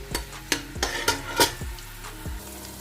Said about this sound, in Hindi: और उसको हम लाइट से ब्राउन होने के लिए छोड़ देंगे।